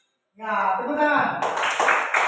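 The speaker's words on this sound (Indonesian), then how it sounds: "Ya, tepuk tangan." A classroom group of students breaks into hand clapping after a short stretch of voices, a dense and fairly loud burst of applause that continues to the end.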